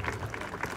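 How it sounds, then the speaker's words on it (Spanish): Audience at a bakery award ceremony gives brief, fairly quiet applause, a short patter of clapping from a room of people. "así que también un muy fuerte aplauso a mi Nino"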